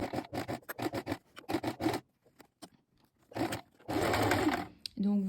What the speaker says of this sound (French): vous faites doucement pour coudre à ce niveau-ci